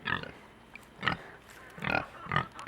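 Pigs that are part Kunekune and part Yorkshire grunt close by in a farm setting, four short, separate grunts with quiet pauses between them.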